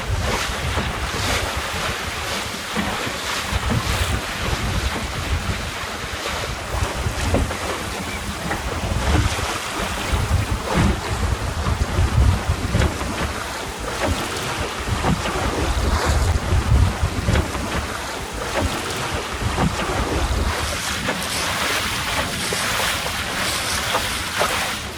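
Wind gusting over a sailing dinghy cruiser in about 10 knots, a loud continuous buffeting roar with surging gusts and water wash, constant for the whole stretch, with no speech.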